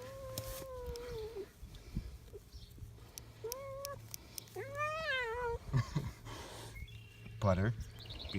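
A fuzzy pet cat being given a haircut lets out several drawn-out, wavering meows between pauses, with faint clipping and handling noises and a low hum underneath.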